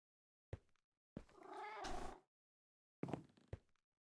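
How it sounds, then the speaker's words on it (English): A cat meowing in the Minecraft video game, with several short meows and one longer drawn-out call, clear and close against silence. "Cat in the box. It's Schrodinger's kitty."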